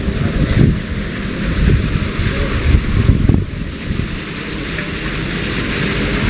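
Wind blowing outdoors, a loud continuous rushing and buffeting against the microphone with uneven gusts, heard alone without talk.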